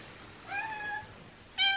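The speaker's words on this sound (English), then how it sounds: "I hear cats." Indoor cats meow twice, a drawn-out meow followed by a short, louder one, close by in a quiet room.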